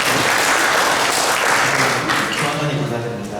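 An audience at a medical association lecture on hypertension gives a loud, dense burst of applause that holds steady and tapers slightly at the end, with a voice faintly audible beneath.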